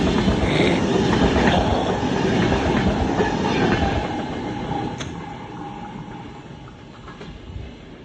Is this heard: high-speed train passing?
yes